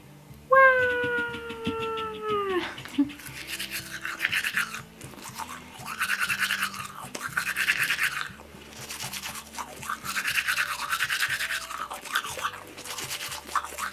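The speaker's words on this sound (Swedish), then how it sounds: "Tandkräm. Tandborste. Det är det man behöver för att borsta tänderna." A toothbrush scrubs teeth in a bedroom night routine, a soft rhythmic brushing in repeated strokes that follows a brief cat meow at the start.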